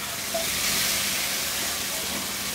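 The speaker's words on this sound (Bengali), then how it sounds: "আমি কয়টা কাঁচামরিচ লাল মরিচ দিয়ে দিব ওইটাকে দিয়ে এক মিনিটের মতো ভেজে নিব" Green and red chillies fry in hot oil with a steady, close, hissing sizzle that holds evenly throughout.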